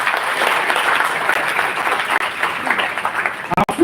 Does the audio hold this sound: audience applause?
yes